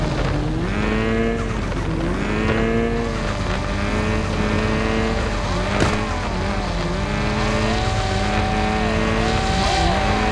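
A car in the mobile game Car Parking Multiplayer drives with a loud, continuous synthetic engine drone whose pitch rises and falls through gear shifts, with a brief sharp accent midway.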